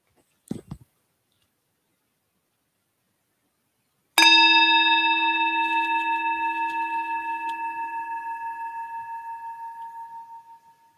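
A meditation bell is struck once after a couple of faint clicks, ringing out clear and bright, its pure tone slowly fading over several seconds in a silent room.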